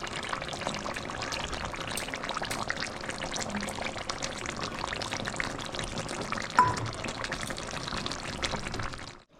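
Cashew and poppy seed paste poured into a pan for chicken rezala, a steady wet pouring and sizzling sound running for about nine seconds with no talk.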